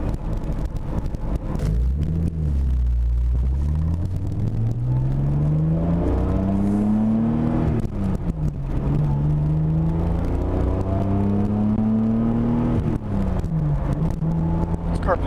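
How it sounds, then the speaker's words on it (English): A Toyota Supra pulls hard along back roads, engine rising in pitch through several gears with distinct shift dips between each climb, a steady close cabin rumble throughout. "Car picks up so nicely."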